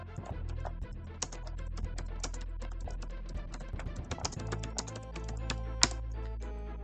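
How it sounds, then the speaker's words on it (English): Rapid keystrokes on a computer keyboard, clattering in quick uneven bursts with occasional louder key hits, close and steady throughout with no voices. "Yes, I'll even type it in."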